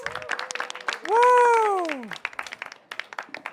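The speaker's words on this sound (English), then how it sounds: "Can we have a round of applause" Audience applause and clapping at the COP28 Children and Youth Pavilion, with a drawn-out cheering whoop rising over scattered claps and nearby voices.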